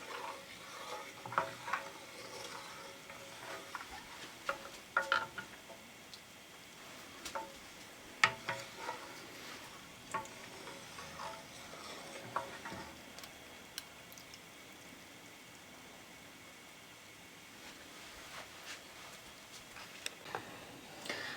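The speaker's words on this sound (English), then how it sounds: "I've been stirring the milk now for about 15 minutes, on and off at medium heat." A spoon stirs milk in a pot on medium heat while plain yogurt is being made, giving faint scattered scrapes and soft clinks over a low, quiet background hiss.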